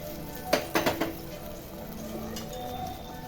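Cashews and raisins tipped into a pan of sizzling prawn biryani give a few quick clattering hits, then a low steady sizzle, close by with no talk.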